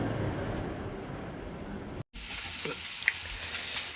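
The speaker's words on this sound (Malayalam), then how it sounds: "മുട്ട പൊരിക്കുകയാണ്" Egg frying in coconut oil with chopped onion, a steady close sizzle and crackle filling the pan, briefly cut off by a short gap midway before the frying resumes with a few stirring scrapes.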